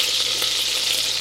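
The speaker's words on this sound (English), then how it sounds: "do you hear the spattering sound that the butter is making?" Butter spatters and sizzles as it melts in a saucepan, a close, continuous crackling hiss with tiny pops, no voices.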